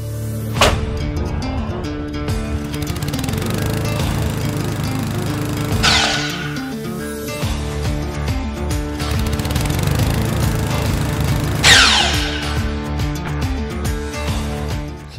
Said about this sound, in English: let's head to the miter box, and we're going to cut our backers down to